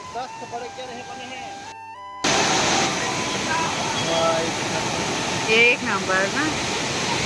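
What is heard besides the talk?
waterfall rushing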